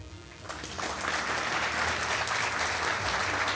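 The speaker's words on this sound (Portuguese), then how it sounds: "Uma salva de palmas" A crowd at a book presentation event bursts into applause after a brief quieter moment, then keeps clapping steadily and fairly loudly until the end.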